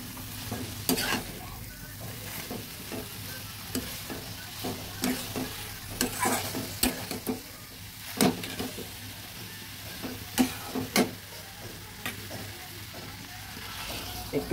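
A spoon stirs beans and potato curry mixed with mung dal flour in a sizzling pan, a soft steady fry under repeated scraping strokes at an uneven rhythm, close and fairly quiet, with nobody talking.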